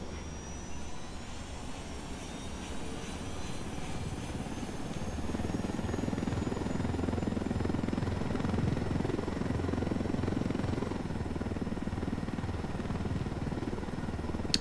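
Helicopter flying in the video game Ghost Recon Wildlands: a steady, loud rotor and engine drone that swells slightly halfway through and holds without a break.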